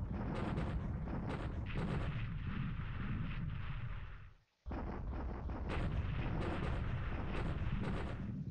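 Explosions from a bombing raid in the War in the Pacific strategy video game, a dense, continuous roar of blasts with a brief drop to silence midway before the barrage resumes at full strength.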